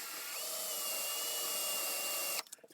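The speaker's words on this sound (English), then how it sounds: "Now insert the stub into a hand drill and we're going to file down the edge slightly." A fine file grinds steadily against a metal stub spinning in a hand drill during an Indian Scout seat mount repair, a continuous high, close whirring rasp that holds for over two seconds and then stops abruptly.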